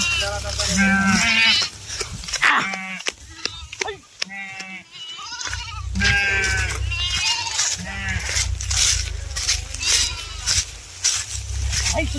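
A flock of sheep gathered at a village pond bleats repeatedly in short overlapping calls, some close and some farther off, over a steady low rumble while someone talks.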